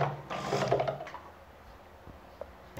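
Vigorelli ZZ/A robot sewing machine stitching fabric: a short, fairly close burst of mechanical running that stops after about a second, leaving quiet with a few small clicks.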